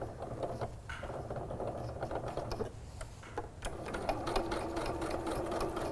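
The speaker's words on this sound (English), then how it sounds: "I'm locking that stitch again" A sewing machine runs steadily, locking a stitch on woven windowpane fabric, with a fast rhythmic ticking and mechanical whir close up. The pace shifts briefly partway through before continuing.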